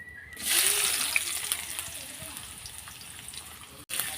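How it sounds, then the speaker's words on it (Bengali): Chopped onion and garlic, with dried chilli, frying in a pan for a village-style taro leaf mash, a steady close sizzle and crackle running throughout with occasional stirring and a brief dropout near the end. "এটা আমি এখন লাল লাল করে ভেজে নেব"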